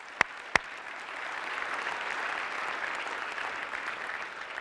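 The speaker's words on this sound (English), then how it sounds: "now you can clap" Church congregation applauding at a chapel service, a steady wash of many hands clapping at moderate distance, preceded by two sharp claps near the start, with no voices over it.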